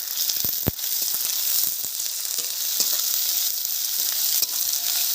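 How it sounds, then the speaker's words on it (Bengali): Chopped onion sizzles in hot oil tempered with nigella seeds: a continuous, bright frying hiss with a few soft pops and spoon scrapes, close by and with no voices. "তেল গরম হয়ে গেছে, ফোড়ন দিয়ে দিচ্ছি কালো জিরে। কালো জিরে দেওয়ার পরে দিয়ে দিলাম পেঁয়াজ।"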